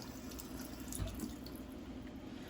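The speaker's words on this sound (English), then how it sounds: "So let's go ahead and give those a quick rinse." A lemon and an avocado rinsed under a running kitchen tap, a steady quiet rush of water splashing into a sink throughout, with a faint thump of the produce under the stream and no talking.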